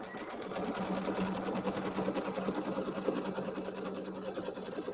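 A sewing machine runs steadily while stitching a tack-down stitch through fabric for a Halloween settee pillow, its rapid needle clatter loud and continuous from start to finish with no talking.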